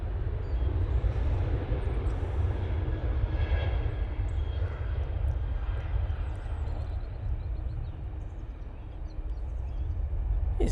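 A TUI Boeing 737-800 airliner on its takeoff roll at Manchester Airport, a steady broad jet-engine roar heard from a distance, loud and continuous without talk.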